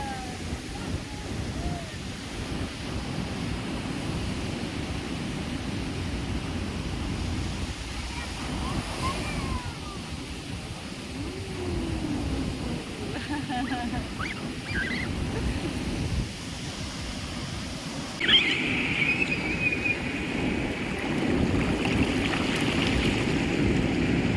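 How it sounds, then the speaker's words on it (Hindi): Ocean surf washing onto a beach at a Palghar seaside resort near Mumbai at sunset, a steady broadband wash with wind noise, people's voices drifting in and out over it throughout. "और ये लहरों की आवाज़, it was so peaceful and Kameng"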